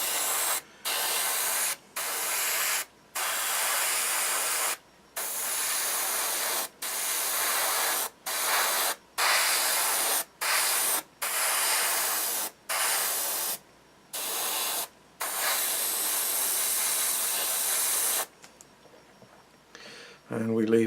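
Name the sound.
airbrush spraying paint on a figure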